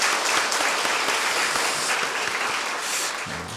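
Church congregation at a Friday evening service applauding the broadcast staff, a dense, loud, steady clapping that fills the space and continues throughout without talk.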